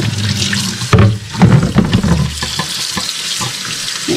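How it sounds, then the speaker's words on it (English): Cold tap water runs and splashes over raw meat being rinsed in a sink for Vietnamese bun bo hue, with shifting gurgles and handling noises close up and no talking. "we are going to rinse this under cold water"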